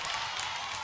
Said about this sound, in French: il ne faut pas applaudir maintenant